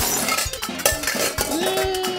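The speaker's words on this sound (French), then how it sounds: "Les casseroles dérangent, les vases s'écrasent." Clattering of metal pots, cookware and crashing vases with sharp clinks and a ringing resonant tone, a busy tumbling crash of kitchenware.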